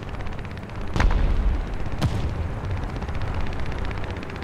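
The Flakpanzer I's anti-aircraft gun fires in War Thunder: two sharp, loud shots about a second apart over a steady rumbling game background.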